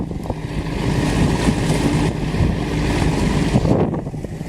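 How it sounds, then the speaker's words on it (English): Strong wind buffets the microphone over open water on a fishing boat, a loud continuous roar with gusts and the wash of waves beneath. "Look how windy it is out here."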